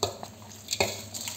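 Spoon stirring a tempering of oil and spices into tamarind rice in a pan: a few soft scrapes and light clinks with faint sizzle, close and quiet, no voices.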